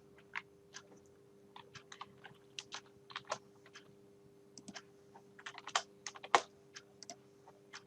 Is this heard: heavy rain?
no